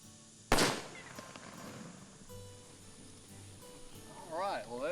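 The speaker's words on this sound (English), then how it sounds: "Take an empty soft drink can, set it on a stick about 3 feet off the ground, and shoot at it." One sharp, loud shotgun blast is fired outdoors at an empty soft drink can set on a stick, followed by quieter ambience and a voice speaking near the end.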